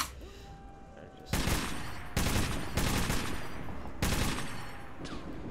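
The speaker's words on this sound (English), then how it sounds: "I mean, this looks like there's some gunfire still." Bursts of rapid gunfire in Metro 2033 Redux erupt in several loud volleys separated by short pauses, over a quieter electronic background.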